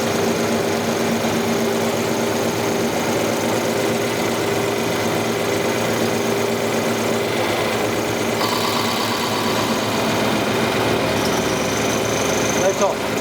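Tatra 148 diesel truck engine idling steadily at around 1025 to 1030 rpm just after injection pump adjustment, a continuous near mechanical drone with a slight pitch shift midway, with people talking over it throughout.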